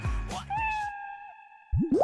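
A man imitates a cat's meow with a drawn-out, wavering nasal mew, followed by a short rising meow sound, close and clear.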